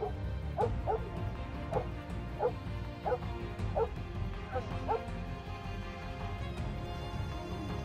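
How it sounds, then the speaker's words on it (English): A dog barks in a steady series of sharp yips, about a dozen over several seconds, with a low rumbling background and faint voices. "Barking is the only way this dog calls for human help."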